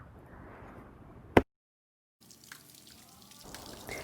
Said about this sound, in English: Here I'm washing and removing the Brussels sprouts.